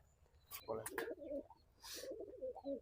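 A Madrasi Pakistani high-flying pigeon coos softly in a few low, rolling calls close by, broken by brief sharp rustles or flutters in between.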